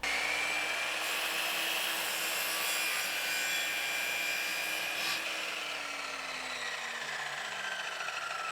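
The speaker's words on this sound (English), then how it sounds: "line this up so that the saw takes off just that small bit of the corner" A hand saw trims a small corner off a wooden piece being made into a sawhorse, giving a steady close rasping stroke that runs continuously.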